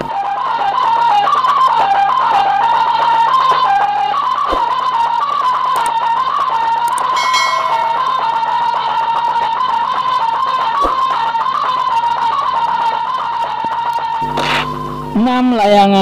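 Humming sawangan flute on a long-tailed dragon kite, a continuous loud whistling drone with a gently wobbling pitch that sustains throughout, ending with a brief shift in tone.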